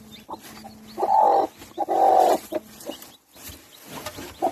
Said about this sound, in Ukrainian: Ми зараз квочечку візьмемо, хай вона йде